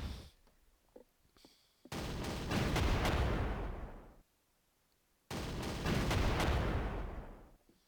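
Two separate heavy booming volleys from a unit firing in the World War II strategy game Panzer Corps, each a loud, rumbling blast that decays slowly, with near silence between them.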